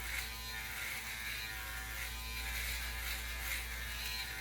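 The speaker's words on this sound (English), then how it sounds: "So now we're getting ready to turn it on. Hold it, count down. So we'll see how it does. You see it's shaving the hair away." A Seiga rechargeable electric shaver hums steadily up close as it cuts through hair, a continuous buzzing drone that holds even for the whole stretch with a faint scratchy rasp on top.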